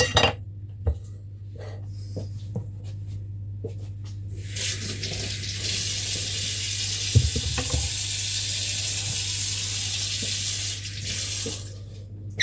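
Tap water runs into a sink while partridges are rinsed, a steady close hiss starting after a few seconds of light clinks and handling noises, then continuing evenly until the end.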